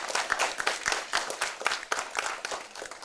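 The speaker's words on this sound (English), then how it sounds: "I noticed that you were very reserved with the applause" Audience applause for the judges at a school debate event, a brief burst of scattered clapping from a modest crowd, fairly near and moderately loud, with no talk over it.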